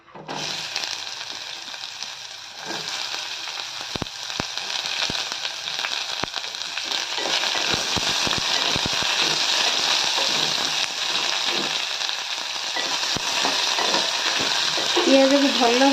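Onions frying in a pan for a restaurant-style veg pulao, a steady broadband sizzle running throughout, close and fairly loud, with faint stirring scrapes.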